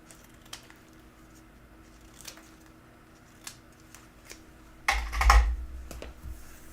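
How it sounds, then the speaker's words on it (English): Scissors trimming a small bit of paper edging for a handmade greeting card: a few light clicks and taps, then a brief louder rustle and snip near the end, close by in a quiet room. "there's a tiny little bit of the edging there that I'm going to trim off before attaching it to the card"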